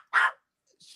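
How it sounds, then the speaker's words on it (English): A single dog's bark, one short, fairly clear yelp from a short distance followed by silence and a faint trailing sound. "The dog in the background,"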